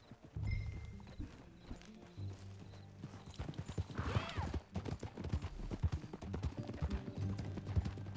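Horse hooves clip-clop steadily in Red Dead Redemption 2, with a whinny midway, creaking tack and faint voices over a low musical bed.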